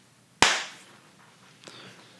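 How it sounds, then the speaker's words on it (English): A single sharp hand clap for syncing audio before a podcast recording, close and loud with a short room decay, followed by a faint softer knock about a second later. "Clap it up."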